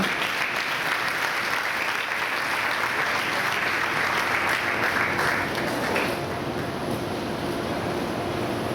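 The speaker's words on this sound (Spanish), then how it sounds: "Un fuerte aplauso." Audience applause at a testimony gathering: dense, steady clapping from a crowd fills about six seconds, then eases to a softer, thinning patter until the end.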